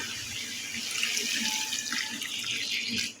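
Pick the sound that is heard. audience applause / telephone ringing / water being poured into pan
water being poured into pan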